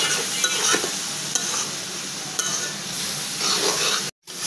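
Ash gourd and egg being stirred and fried in a pan, a steady close sizzle with repeated scraping strokes of a spatula, and a short silent gap near the end.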